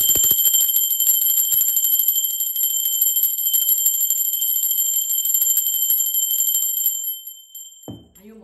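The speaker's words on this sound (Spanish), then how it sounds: "Y bueno, va campana." A bell rung during a tarot reading gives off a bright, sustained metallic ringing with rapid repeated strikes, loud and continuous for about seven seconds before fading away, followed by a brief voice.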